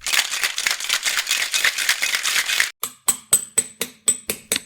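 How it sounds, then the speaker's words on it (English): A pneumatic drill chisels Roman numerals into a tablet, first as a fast continuous rattling burst, then as about eight separate sharp, evenly spaced hammering strikes, loud and close with no talking. "It's a pneumatic drill. I'm chiseling Roman numerals on a tablet."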